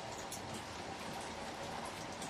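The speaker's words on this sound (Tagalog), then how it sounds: "Umulan na. Kaya yung mga sampay ko wala na." Steady rain falls as an even, faint hiss of drops on outdoor surfaces in a city, unbroken and without voices.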